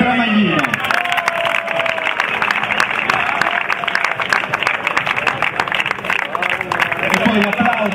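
Sustained applause from a large crowd, dense clapping at steady loudness throughout, with a murmur of voices mixed in.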